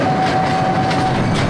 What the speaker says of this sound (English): It's a 2-foot narrow gauge, 1/3 size, operational miniature train.